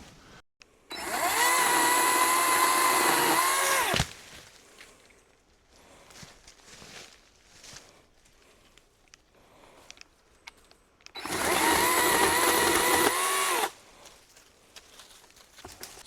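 A Kobalt 40 volt brushless pole saw with a 10-inch blade runs in two bursts of a few seconds each, a bright, loud electric whine with abrupt starts and stops, separated by quiet shuffling and handling noises.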